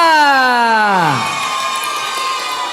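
Children at a nasyid competition during a Maulid Nabi event cheer and shout for class 4A, heard as a loud, sustained crowd roar after a falling siren-like whistle.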